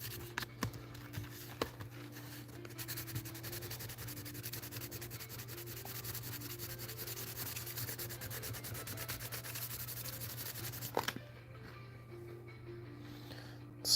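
Hand sanding at a workbench scuffs a surface with a soft, steady rubbing that continues for most of the clip, faint and close, with a low hum underneath before the rubbing stops near the end.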